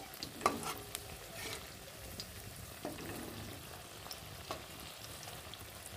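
Cabbage pakoras frying in oil that is not very hot, giving a soft, steady low sizzle with a few faint clicks of a utensil, quiet and close.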